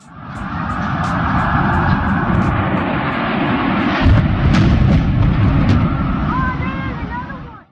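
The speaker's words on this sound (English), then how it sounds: "Flight 175 hit the South Tower between the 78th and 82nd floors at 9:02 a.m." Airliner Flight 175 striking the South Tower between the 78th and 82nd floors: a loud, sustained jet roar fills the whole stretch, with a heavier burst midway and no voices.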